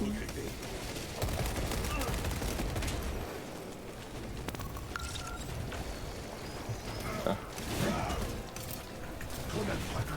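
Gunfire and combat in Warhammer 40K Space Marine 2: dense, continuous bursts of shots and clashing noise over roaring creature sounds, loud throughout with a voice talking now and then.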